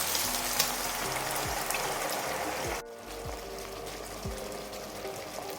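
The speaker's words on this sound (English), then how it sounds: "So as you can see, now it's boiling." Lemon sauce bubbles in a pan over chicken, giving a steady close hiss and crackle that drops sharply partway through, with a few low clunks of the pan or utensil.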